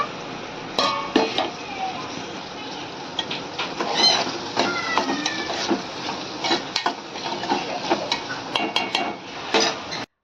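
Tomatoes go into a pan of softened onions on a home stove. A steady sizzle runs throughout, while a spoon repeatedly clinks and scrapes against the pan in quick, uneven strokes, close and fairly loud.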